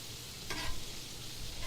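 Shrimp frying in a frying pan for a keto Old Bay bowl, a soft continuous sizzle with a brief scrape of stirring partway through, quiet and close with no talk.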